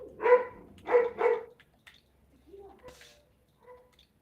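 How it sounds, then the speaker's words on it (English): A dog barks in three sharp, fairly close bursts early on, two of them in quick succession, followed by quieter, scattered sounds and a faint voice-like murmur. "I really wish the dog would stop barking."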